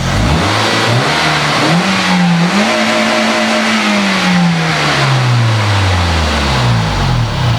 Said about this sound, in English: It's also got quite a raughty sounding exhaust, or maybe it's just got a hole in it.